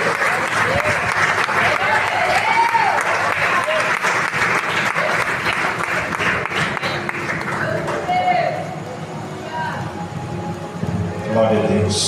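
A church congregation at a Sunday worship service applauds in praise, a broad wash of clapping under music and voices that thins out toward the end, with some talking mixed in.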